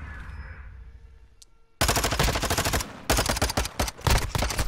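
Dense, loud bursts of submachine gun fire from Modern Warfare 2 in a Search and Destroy match erupt after a quiet moment, rattling in rapid runs with brief gaps between them.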